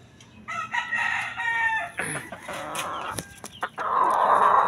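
A five-to-six-month-old rooster crows and clucks close by, with a couple of crowing calls and sharp bursts between them and no talking.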